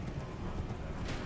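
Horse hooves galloping in Elden Ring, a steady rapid clip-clop rhythm filling a short burst, close and fairly loud with no talk over it.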